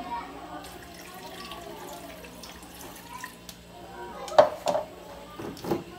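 Water is poured into a blender for a mango strawberry smoothie, with a quiet trickle followed by a couple of brief splashing bursts, under a low background hum.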